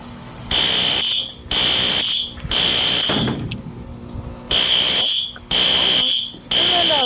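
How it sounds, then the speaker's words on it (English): A building fire alarm sounds in repeated loud, shrill electronic pulses of about a second each, separated by short gaps, with a voice announcement running beneath it. "A fire alarm has been activated."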